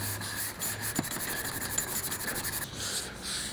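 Hand block sanding of primer on a car panel, a close continuous rough rubbing with steady back-and-forth strokes and no talk.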